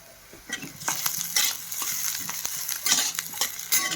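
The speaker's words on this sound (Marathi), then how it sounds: "आता थोडासा कांदा सॉफ्ट होऊ द्यायचा आहे" Onion frying in a pan for a Marathi-style matki (moth bean) bhaji, a steady sizzle broken by repeated scraping stirs of a spatula, close and fairly loud, with no talking.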